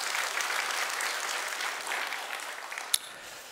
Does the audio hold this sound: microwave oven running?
no